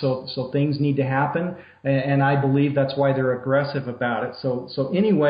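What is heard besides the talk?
None of the usual background noises is heard.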